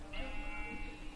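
A sheep in the block-building game Minecraft gives a single wavering bleat lasting about a second, faint and distant-sounding against a quiet background.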